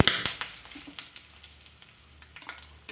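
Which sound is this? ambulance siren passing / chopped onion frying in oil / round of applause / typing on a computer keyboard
chopped onion frying in oil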